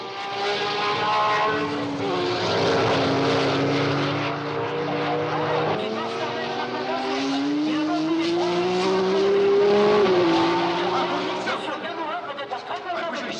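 1966 Grand Prix race cars, a Ferrari among them, racing on a wet track in the rain, high-pitched engine whines rising and falling as cars pass, with a commentator talking throughout.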